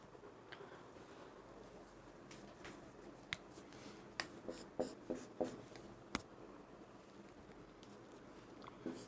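Faint, crisp taps and scratches of writing on a board in a physics classroom come in an irregular run of strokes, with a cluster of sharper clicks in the middle and no talking.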